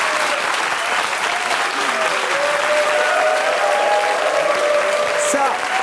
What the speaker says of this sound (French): Applaudissements pour Roland